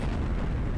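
A tank gun fires in World of Tanks from an SU-100Y, a brief deep, heavy boom filling the low end and sustaining as a dense rumble throughout, loud and close with no voices.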